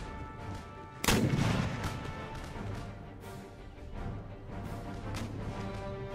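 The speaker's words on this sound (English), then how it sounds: "You just blast that square full of cannons to shot." Cannons fire in the Empire Total War video game battle: a loud, sharp cannon blast followed by a rumbling decay, then scattered distant shots and crackling battle noise, with no voices.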